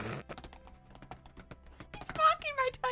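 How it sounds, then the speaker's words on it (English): Loud, rapid clacking of a computer keyboard being typed on at a desk, followed by people talking over the continuing keystrokes. "You are a loud typer."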